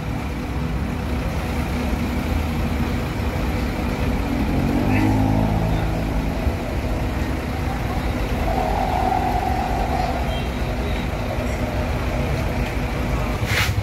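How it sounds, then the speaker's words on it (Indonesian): A Sempati Star intercity bus leaves a crowded parking stop, its engine rumbling steadily and rising briefly as it pulls away amid the wider traffic noise. "Oke ya, bus langsung berangkat."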